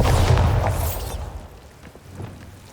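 A Bombarda spell explosion in the video game Hogwarts Legacy, a loud booming burst at the start that decays into a rumbling tail and fades to quieter background.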